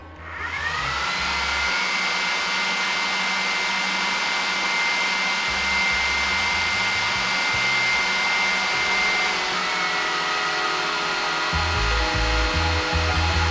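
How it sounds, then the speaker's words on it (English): Cooling fans on a self-built 3D printer roar loudly and continuously, a steady broadband whoosh with a faint whine that holds throughout, close and alone without voices. "here's the fans"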